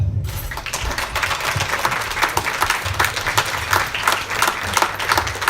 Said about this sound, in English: thank you so much for the applause